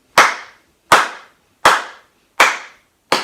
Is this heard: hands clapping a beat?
yes